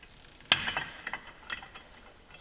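An 1/8 inch Allen wrench turning a bolt to remove clutch weights on a 2016 Polaris RZR Turbo, giving a sharp metallic click followed by a few faint ratcheting ticks, close and quiet.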